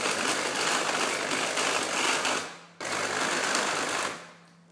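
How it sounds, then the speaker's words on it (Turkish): A food processor labors through thick brownie batter, a loud close motor whir that runs for over two seconds, cuts out briefly, then starts again before winding down. "Yani bu rondoyu bile bozabilir. kızmaya başladı."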